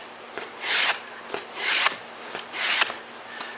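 A file rasps along a PVC flute in three long, straight strokes, each a bright scraping swell lasting about half a second, separated by short pauses with light tapping. The sound is close and fairly quiet.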